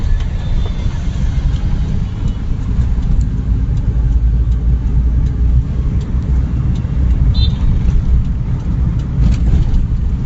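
A car pulls away from a traffic signal and moves up through the gears. Its engine gives a steady, close, low rumble with a mild rise in revs, and no one talks.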